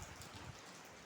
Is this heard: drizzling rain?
yes